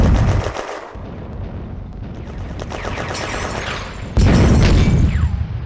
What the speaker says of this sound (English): The sound of artillery is heard in the distance.